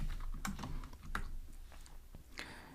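Steady stream of keyboard clicks as code is typed on a computer, irregular taps and a few louder keystrokes, heard up close without any speech.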